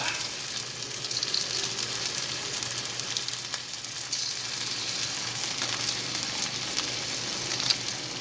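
Squid frying in a hot pan with oyster sauce, a steady, close sizzle that holds at an even level throughout, with faint crackles and no voices.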